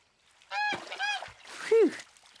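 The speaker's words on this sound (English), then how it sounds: "That's a goose, but it's a different goose." A cartoon goose honks three times in a row, loud, nasal and close, each honk short with a bending pitch, alone without any talk.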